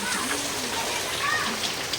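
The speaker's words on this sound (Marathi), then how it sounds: "असा आहे पाऊस." Rain falling steadily in a continuous dense hiss, close and even throughout, with a voice faintly present underneath.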